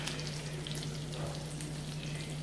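Bacon frying in a pan with a steady, dense crackling sizzle that holds evenly throughout, close by and with no talk.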